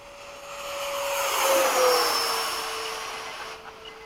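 A radio-controlled model F-15 jet comes in to land at Bayside, its turbine whine rising as it nears and peaks overhead before easing off, loud and steady with no voices.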